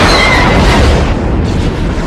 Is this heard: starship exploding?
yes